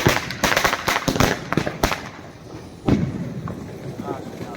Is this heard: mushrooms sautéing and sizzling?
no